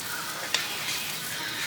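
Bacon sizzling and frying in a pan over a live wood fire, a steady close crackling hiss with one brief sharper pop as it is stirred.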